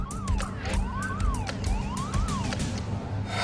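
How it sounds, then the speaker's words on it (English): A warbling gas alarm rises and falls repeatedly, loud and continuous, with a rumbling background, in the North Sea. "he had witnessed a series of gas alarms"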